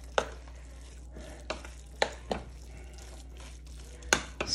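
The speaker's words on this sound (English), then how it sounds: "and mix it up" Stuffing and relish get mixed in a bowl with a spoon, giving several sharp, irregular knocks and scrapes against a quiet background.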